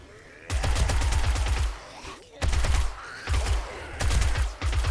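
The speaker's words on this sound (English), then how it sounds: "Switching to the SMG to save my ammo." Submachine gun fire in the survival video game 7 Days to Die, heard as three loud rapid-fire bursts separated by brief pauses, each a dense stream of close shots.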